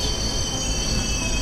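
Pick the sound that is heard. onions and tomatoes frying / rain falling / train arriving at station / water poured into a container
train arriving at station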